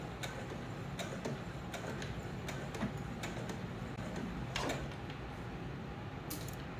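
A sewing machine stitches a tote bag strap in a quiet room with a soft mechanical whir, marked by faint, irregular ticking and clicking at a slow, uneven pace, close but low in level.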